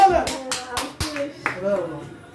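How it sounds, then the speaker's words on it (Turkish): A few people clap together in a small gathering with children present, a handful of sharp hand claps spaced irregularly under close, ongoing talk. "Alkışlayalım."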